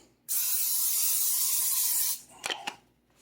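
One sustained burst of butter spray hissing into a skillet close by for about two seconds, then a few brief knocks of a pan or can.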